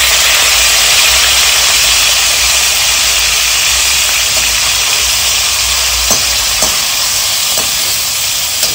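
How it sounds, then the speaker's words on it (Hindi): Chicken seasoned with pepper powder sautés in a pan for a white-sauce pasta, giving a loud, steady sizzle close up with a few light scraping knocks near the end. "चिकन को हम 3 से 4 मिनट तक अच्छे से सॉटे करेंगे"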